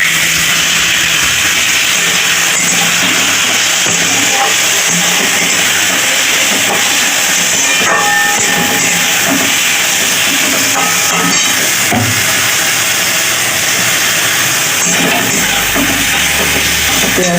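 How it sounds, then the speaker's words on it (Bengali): Onions fry in hot ghee for Hyderabadi biryani, giving a loud, continuous hiss and sizzle that holds steady throughout with no voices. "পেঁয়াজটা এবার আমি ভেজে নেব।"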